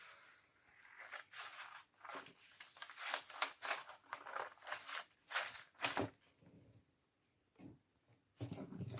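Scissors cut a paper sleeve pattern in a run of close, crisp snips and slides that come in quick bursts, pause, then resume at the end.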